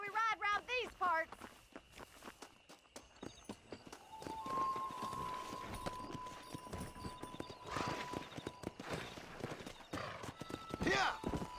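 Red Dead Redemption horse hooves clip-clop steadily at a walking-to-galloping pace, with a neigh at the start, alongside in-game speech and background game sound.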